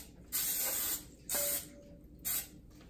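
Three short bursts of cooking spray hiss out in quick succession onto the sides of an Instant Pot cheesecake pan, each about half a second, close and fairly loud against a quiet background.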